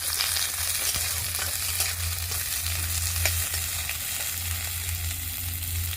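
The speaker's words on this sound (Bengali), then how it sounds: "এই যে পেঁয়াজ কাটাটা তেলের ভিতরে দিয়ে দিলাম। আবার একটু ভালো করে ভেজে নিলাম।" Chopped onion frying in hot oil in a pan, for a Bengali lunch of pointed gourd and shrimp paste. A steady, dense sizzle continues throughout, with a low hum beneath and occasional stirring clicks, and no one speaks.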